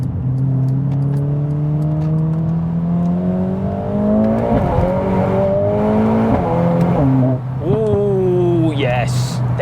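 A Mercedes-AMG A45 S engine accelerating hard in manual mode, its rising tone climbing through gear after gear with quick shift breaks, loud and close from inside the cabin, with a driver talking over it.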